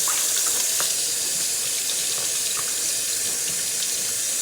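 Tap water runs steadily into a sink, giving a continuous close rush and hiss as pork neckbones get a final rinse.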